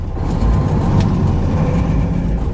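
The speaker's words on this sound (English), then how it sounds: "Engine brake, I think it's working. Let's have a listen." A 2003 Peterbilt 379 truck's Detroit Series 60 engine brake roars in a loud, steady rumble close by, with no voices.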